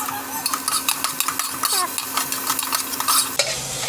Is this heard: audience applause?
no